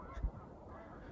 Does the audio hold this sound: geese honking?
yes